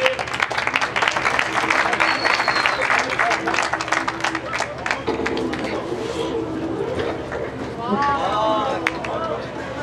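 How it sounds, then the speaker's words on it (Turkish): Applause and cheering at a Ninja Warrior Türkiye obstacle course, loud busy clapping under frequent shouting and talk, with whistles near the end. "Bir alkış, bir alkış."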